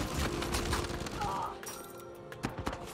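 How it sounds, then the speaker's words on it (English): Rapid bursts of automatic gunfire from the video game Uncharted 4, a dense fusillade that thins out, then a few sharp shots and thuds near the end. "Look at how his bullets are coming out."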